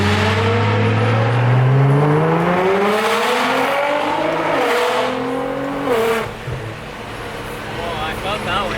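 A Nissan GT-R and other supercars accelerate hard while driving, their engines rising in pitch through the gears with loud roaring revs that ease off toward the end.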